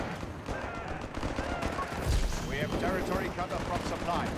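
Sturmgewehr rifle fire in Company of Heroes 3, dense overlapping bursts of battle gunfire at steady loudness alongside other combat noise, with a commentator's voice running over it.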